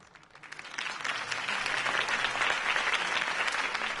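Applause for a speech in the video game The Batman by Telltale swells quickly and holds steady, dense clapping with no voices standing out.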